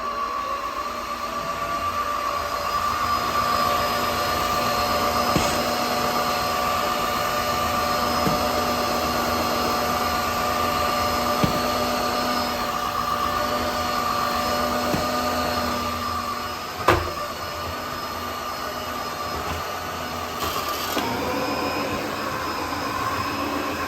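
Tineco S5 cordless vacuum cleaner running on carpet, its brush roll shedding; a steady, loud, close whine with a constant tonal hum throughout, a few faint clicks and brief bumps, no voices.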